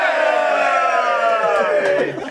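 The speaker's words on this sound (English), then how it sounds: "Can I get a cheer for nothing?" Hunters at a hunt club camp raise a loud, sustained group cheer, many voices whooping together close by before trailing off at the end.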